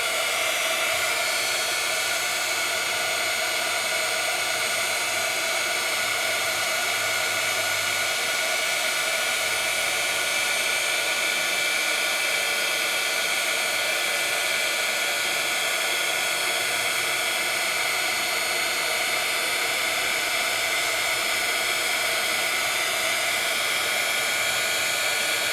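A handheld heat tool blows continuously for a long stretch, a loud, steady whooshing hiss directed at an embossed stencil craft piece, with no other sounds breaking through.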